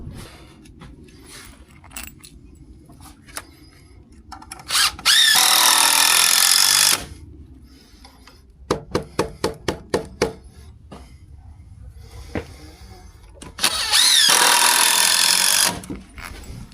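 Impact driver sinking screws into timber floor joists during a house extension build, two long loud whirring bursts with a rapid string of sharp hammering clicks between them, set against quieter shuffling and handling noise.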